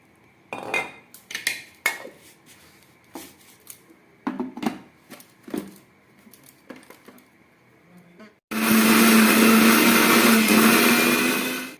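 A mixer grinder whirs loudly and steadily as it grinds ginger and garlic into paste in a home kitchen. It starts after several sharp clinks and clatters of utensils and runs for about three seconds.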